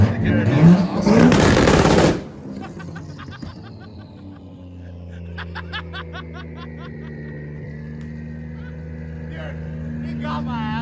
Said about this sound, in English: The amount of turbo sound that you actually get to do is awesome.